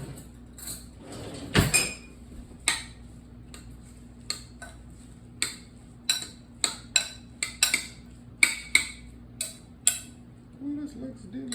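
Guacamole ingredients being mixed in a bowl: a utensil scrapes and knocks against the bowl in irregular, close clicks and taps, with one heavier thud early on.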